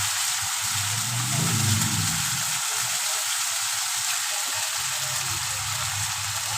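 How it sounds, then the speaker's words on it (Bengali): Spice masala for egg peyaji kosha fries in a pan, a loud, even hiss of sizzling oil running steadily throughout with a brief low stirring sound early on. "মশলাটা আমি বেশ ভালো করে কষিয়ে নেব।"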